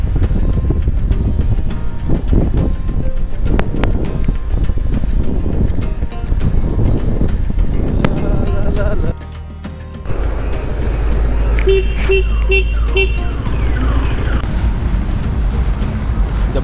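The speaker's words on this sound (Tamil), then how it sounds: "இந்த பைக்கில் தான் திருப்பதி போயிட்டுருக்கோம்." A motorcycle rides along the highway past Tiruvallur toward Tirupati. Loud, steady wind buffeting and road rumble continue throughout, with a brief lull near the middle.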